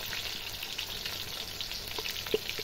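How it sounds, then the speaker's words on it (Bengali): Pigeon meat frying in plenty of hot oil, a steady close crackling sizzle throughout with a few sharper pops near the end, no voices. "তেল গরম হয়ে গেছে, দেখতে পাচ্ছ। এখন আমি দিয়ে দেবো, এটা এখন ভালো করে ভেজে নেব।"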